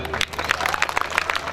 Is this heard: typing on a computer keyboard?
no